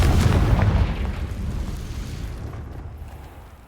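A Confringo blasting spell explodes in Hogwarts Legacy, a loud, close boom up front that rolls into a long rumbling decay, fading steadily with no talk.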